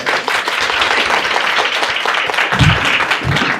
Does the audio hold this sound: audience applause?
yes